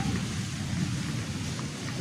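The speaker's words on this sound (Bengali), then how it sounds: "দেখো ঝড় বৃষ্টি" Steady rain pours down during a storm over a waterlogged street and field, a dense, even hiss with low rumbling underneath, close and continuous without any talk.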